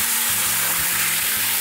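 White wine hits a hot pan of shallots and salt with a loud, continuous hissing sizzle, close and dense from start to finish, with a low pulsing rumble underneath and no talking.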